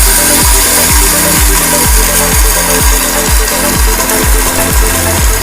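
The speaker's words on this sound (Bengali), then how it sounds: "ব্লেন্ড করার সময় আমরা অবশ্যই 10 সেকেন্ড একটানা পর্যন্ত ব্লেন্ড করব" A Nima 2-in-1 blender runs loud and steady, its motor whirring continuously with a regular pulsing churn as the contents spin.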